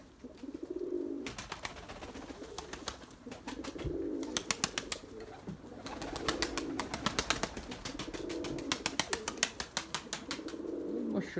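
White pigeons coo in repeated soft rolling phrases while bursts of sharp wing flapping break in and out, close by and lively.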